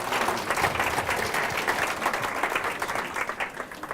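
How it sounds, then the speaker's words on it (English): Audience applause fills a faculty breakfast, a steady, dense wash of many hands clapping at once, sustained and fairly loud throughout with no voices rising above it. "how about a big round of applause for Dr. Joe Schaefer"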